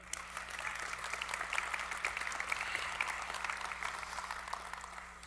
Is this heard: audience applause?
yes